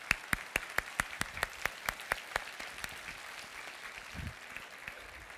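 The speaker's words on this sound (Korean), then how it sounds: "우리 힘 찬양대 뜨거운 박수 다시 한번 부탁드리겠습니다" A church congregation at a Christmas Sunday service claps for the choir, a sparse, rhythmic round of distinct claps that thins out and fades after a few seconds.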